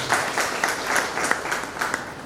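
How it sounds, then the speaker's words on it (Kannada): Audience clapping at a World Theatre Day ceremony in Kalaburagi, a brief burst of steady applause from a seated crowd indoors, moderately loud and even throughout. "ಒಂದು ಚಪ್ಪಾಳೆ ಬರಬೇಕಂತ"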